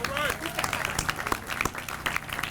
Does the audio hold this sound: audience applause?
yes